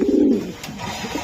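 A racing pigeon gives a single close, low, throaty coo at the start, then softer rumbling murmurs in a quiet room.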